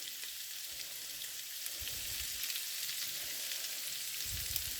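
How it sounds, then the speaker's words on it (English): Sliced onion, sliced bacon and diced chicken sizzle steadily in a pan with mixed herbs, a continuous close crackling fry with a few soft stirring bumps and no talk. "the sliced onion, the sliced bacon, and the diced chicken is in there as well now. Let that cook down a bit more"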